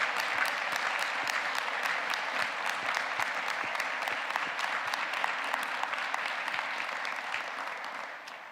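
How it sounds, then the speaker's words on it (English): An audience at a 2023 Ph.D. hooding ceremony at the University of Alaska Fairbanks claps modestly for family and friends, a steady mass of hand claps that thins and fades away at the end. "that was modest applause for the families and friends"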